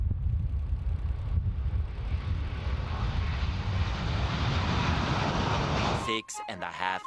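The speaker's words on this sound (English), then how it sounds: "Okay, a plane is departing soon." A departing airliner's jet engines roar steadily and loudly, a broad continuous rush that holds for several seconds before cutting off abruptly into a short burst of other sound.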